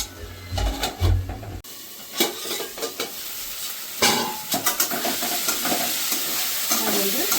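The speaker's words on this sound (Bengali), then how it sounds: "এবার মশলাটাকে আমি একটু কষিয়ে নেবো ভালো করে" Spice paste frying for a katla fish and potato curry, with a steady close sizzle and repeated scraping, clattering stirs of a spoon in the pan that grow denser toward the end.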